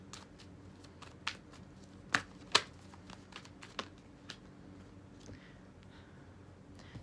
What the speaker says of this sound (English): Let's pull a couple cards for Gemini.